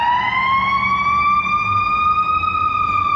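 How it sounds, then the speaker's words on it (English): An ambulance siren on a Chicago street, a loud, close, sustained wailing tone that slowly rises in pitch over the low rumble of city traffic. "Ambulance."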